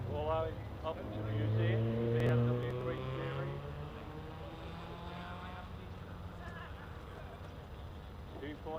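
A BMW 3 Series racing car climbs the course at Loton Park hill climb, its engine note rising and swelling loudly before fading into the distance. A voice may carry faintly over it.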